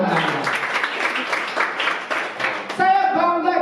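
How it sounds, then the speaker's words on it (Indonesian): A church congregation clapping at a worship service, scattered hand claps under cheerful chatter and a voice, fading as a voice rises clearly near the end. "tepuk tangan dong buat Anda"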